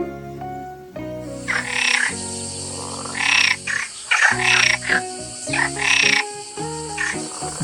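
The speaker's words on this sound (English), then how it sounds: "F for frog." Cartoon-style frog croaking in a children's alphabet song, loud repeated croaks in a bouncy rhythm over a musical backing with no talk.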